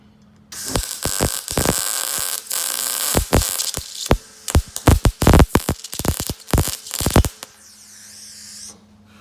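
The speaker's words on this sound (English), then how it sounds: "We're just basically going to do a tack that's about the size of a dime." A MIG welder crackles and buzzes in a series of short tack-weld bursts of varying length on car body sheet metal, separated by brief pauses, close and loud.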